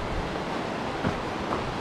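Rushing water from an Alpine mountain stream near the Aiguilles Rouges gives a continuous close roar, with faint brief bumps or steps briefly rising above the flow.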